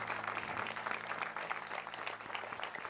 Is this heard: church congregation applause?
yes